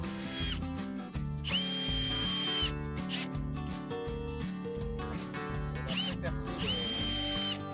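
A cordless drill fastens a wooden rim board on a terrace deck, with repeated bursts of whirring, a high motor whine rising and stopping in short runs, close and loud.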